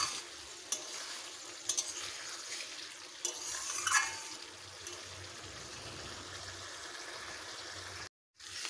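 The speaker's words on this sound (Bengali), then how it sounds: "এবারে দিয়ে দেবো ভেজে রাখা আলু আর ডিম, দিয়ে ভালোভাবে কষবো।" Fried potatoes and eggs are stirred through a spice paste in a pan with a continuous close sizzle and scraping, and a few sharper clinks of the utensil against the pan.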